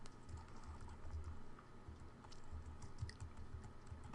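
Quiet, steady clicking of fingers typing on a computer keyboard, a fast continuous patter of keystrokes heard close up in a quiet room.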